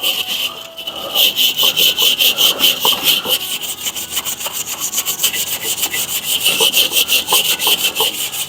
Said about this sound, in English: I'm going to go ahead and use the copper scrubber first.